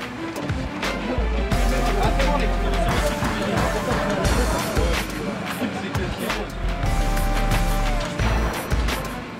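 A rally car accelerates hard on a stage, engine note climbing through revs with gear shifts and road noise, loud and close throughout, under a voice talking.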